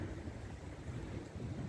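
Wind gusts buffet the microphone on a winter Mediterranean beach at Cala Mondragó, Mallorca, giving a continuous low rumble of fairly steady, moderate intensity with no voices.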